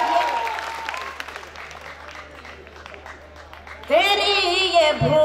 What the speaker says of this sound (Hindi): एक बार जोरदार तालियां बजाकर आप सब मुझे इजाजत दीजिए